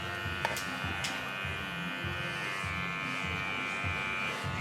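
An electric hair clipper buzzes steadily and close while cutting and blending a men's choppy haircut, its hum shifting slightly as it scoops through the hair, with no talking.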